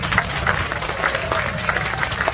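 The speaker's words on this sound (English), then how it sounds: "so if we give them a round of applause" Crowd applause at an outdoor park grand opening ceremony attended by Dallas Police Department command staff, steady dense clapping sustained throughout at moderate distance.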